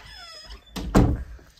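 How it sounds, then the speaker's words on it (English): A door is pushed shut in a home, giving a short swish followed by a solid thunk near the middle, close and distinct against a quiet room. "He wants the door closed."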